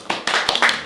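A handful of people clapping at a small tea talk gathering, sparse irregular hand claps close by, a few separate slaps over one second.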